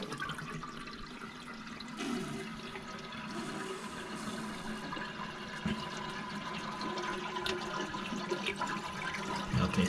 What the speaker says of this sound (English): you just flush the toilet, empty the tank out with whatever water is left in there